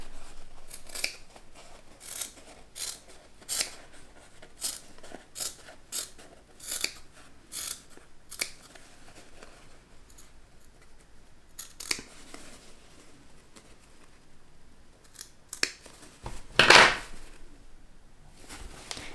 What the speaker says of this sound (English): I'm going to snip right into the very corner there without snipping through the stitches